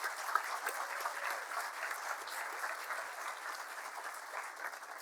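Applause for a college symphonic band at a commencement ceremony, steady even clapping from a large crowd heard from a distance, fairly soft and continuous.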